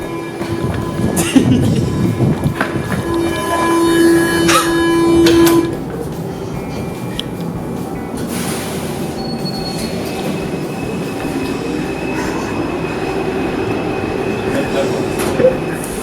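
A metro train squeals and rumbles through a station in France, wheels screeching loudly at first, then a steady rolling hum with clicks and faint voices underneath.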